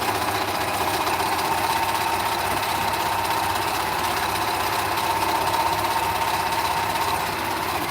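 A sewing machine runs steadily at speed while stitching small charity items, a continuous even mechanical whir that holds at moderate loudness throughout with no talk.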